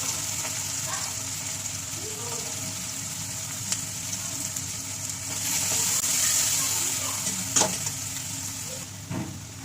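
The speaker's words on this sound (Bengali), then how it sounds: "দেখো এগুলো সব সবজিগুলো ভাজা হয়ে গেল তুলে নিলাম" Vegetables frying in oil in a pan while cooking fish-head muri ghonto, a steady close sizzle with a few stirring scrapes and clinks, and a louder hissing swell midway.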